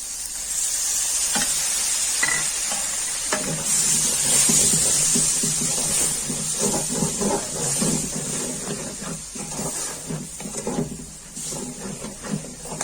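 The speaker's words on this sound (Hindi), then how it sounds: "प्याजों को गोल्डन कलर आने तक मैं इसको फ्राई कर लूंगी।" Onions sizzle and crackle in a hot pan, with intermittent stirring clicks and scrapes; loud and close throughout, no talking.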